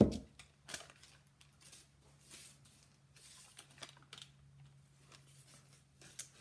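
Scissors snip through an IOD paint inlay sheet in a few quiet, crisp cuts with small rustles between them, close and faint, with no talking.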